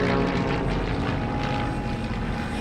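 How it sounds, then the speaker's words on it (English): Lancaster bomber aircraft taking off, a loud continuous droning propeller engine roar that holds steady throughout. "Far to the west, 20 Lancaster bombers took off from England."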